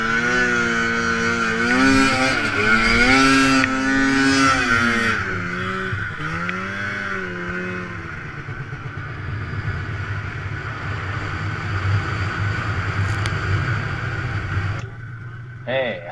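A snow vehicle revs through a wheelie in deep snow, its engine note rising and falling in strong harmonic sweeps before settling into a steady rough drone, loud and close, then cutting off near the end.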